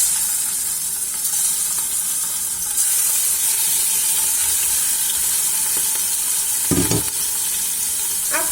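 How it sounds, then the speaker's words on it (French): Meat sizzling in oil in a pressure cooker for a quick couscous, a loud dense continuous frying hiss close by, with a brief burst of clattering stirring near the end. "On va mettre de l'huile. Et je vais mettre directement ma viande."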